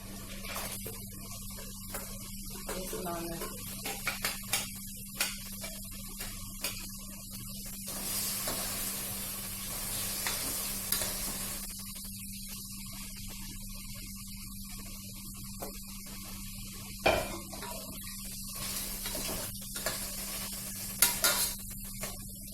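Onions being stirred and fried in a pan while preparing crab curry, with faint scraping and soft sizzling over a steady mains hum, the stirring noises coming in short clusters.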